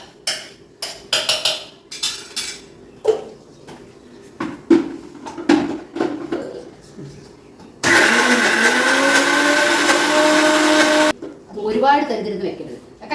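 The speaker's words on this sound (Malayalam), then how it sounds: "മിക്സി ഒന്ന് ഒന്ന് ചതച്ചിട്ടാൽ മതിട്ടാ" A mixer grinder whirs loudly and steadily for about three seconds, with clattering and talk before and after the burst.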